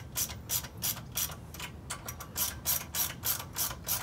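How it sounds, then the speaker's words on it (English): A 10 mm ratcheting wrench spins lock nuts onto studs of a billet air filter housing on a Predator 212 engine: steady, evenly paced ratchet clicks, close and fairly quiet, with no voices. "Take our 10 millimeter wrench, and I'm just going to start each nut just so it's touching the billet housing."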